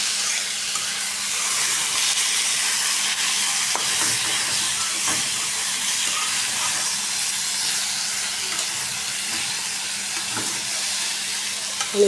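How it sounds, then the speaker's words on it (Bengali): Leafy greens frying in hot oil in a wok, a steady broadband sizzle and hiss holding level throughout, with a few soft stirring knocks and scrapes and a low steady hum underneath. "তেলে দিয়ে দিলাম শাকটা।"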